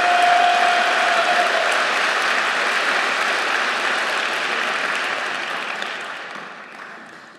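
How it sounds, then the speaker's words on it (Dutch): Audience applause filling a hall at a party congress, loud and sustained, with dense steady clapping that slowly thins and fades toward the end; no talk over it. "Uw applaus graag"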